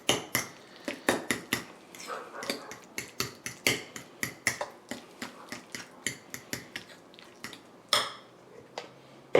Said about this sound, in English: Mix it up real good. Smash it up like mashed potatoes.